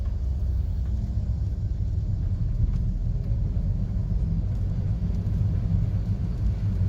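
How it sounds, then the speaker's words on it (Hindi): Constant low road rumble and engine hum from inside a moving Daihatsu Move car, steady and even throughout with no talking. "गाड़ी अब चल पड़ी है"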